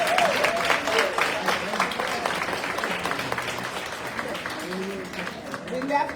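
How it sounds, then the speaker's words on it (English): An audience at a school board and community meeting applauds parents, a steady wash of clapping that tapers slightly, with voices calling out over it in places. "would you stand up and please be given a round of applause?"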